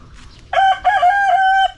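A rooster crows once, loud and close, a clear ringing cock-a-doodle-doo with a short break partway through, standing alone against a quiet background.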